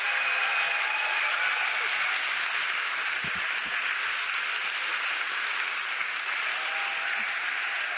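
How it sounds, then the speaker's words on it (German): Steady, dense applause fills a science slam hall after a BASF chemist's talk, continuous and fairly loud throughout. "Applaus für Sebastian"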